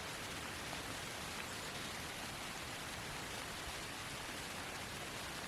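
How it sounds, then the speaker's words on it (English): Steady rain falls through the woods on a hunting day during deer season, a dense, even hiss of drops on leaves and ground with no voices, constant and close throughout. "They said it was going to rain today, and it did."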